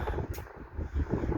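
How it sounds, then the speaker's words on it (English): Strong wind blows outdoors, a broad rumbling buffet that batters the microphone in uneven gusts, with no voices. "It's super windy."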